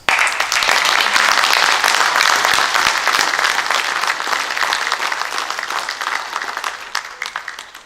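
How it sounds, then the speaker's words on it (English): A large crowd applauds steadily at a high school Veterans Day ceremony, dense clapping that starts loud and gradually thins out toward the end. "I ask that you give them a round of applause"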